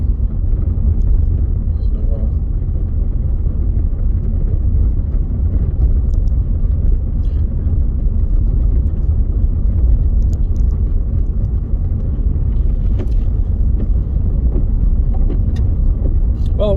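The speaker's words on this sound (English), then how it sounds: "It's very breezy." Wind buffeting a car on a breezy day in Scotland, heard from inside as a constant low rumble and roar that stays loud and steady throughout, with no talk.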